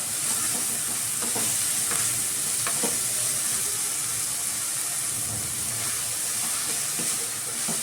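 Vegetables for a veg roll tossed and sautéed in a pan with a little salt over a medium flame, a steady close sizzle with occasional light stirring clicks throughout.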